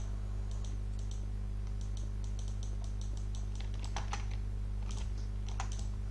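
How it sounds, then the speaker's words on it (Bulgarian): Computer keyboard typing and mouse clicks during a Minecraft PvP game: quick, irregular bursts of keystrokes and clicks, close to the microphone, over a steady low electrical hum. "ако чувате звуци от клавиатура и мишка"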